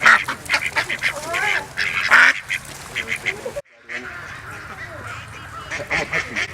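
Ducks and geese quack and honk at Hungry Horse Dam in Montana. The loud calls repeat in bursts over outdoor background noise, and people talk nearby.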